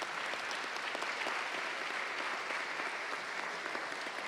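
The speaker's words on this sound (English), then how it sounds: "I would like for you to give our candidates another round of applause." Sustained audience applause for city council candidates at a Charleston candidate forum, dense and steady clapping from a crowd filling the whole stretch without pause.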